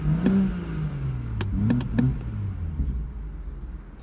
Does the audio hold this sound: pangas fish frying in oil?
no